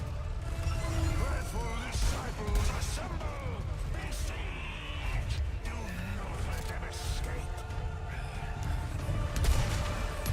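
Scattered gunshots in Resident Evil 4 during the Saddler fight as Leon, sharp cracks popping out at intervals under steady talking and background game noise.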